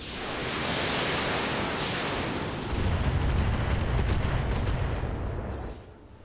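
Long-range missiles and lasers fire in the RogueTech mech combat game as a dense, loud roaring barrage. A heavier low rumble joins midway, and the whole burst cuts off abruptly near the end.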